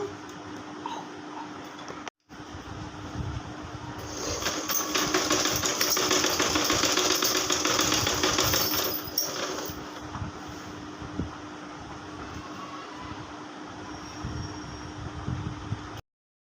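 A sewing machine runs in a steady, fast whirring burst mid-way while stitching the seam of a child's frock, close up, preceded and followed by quieter handling noise and low background hum.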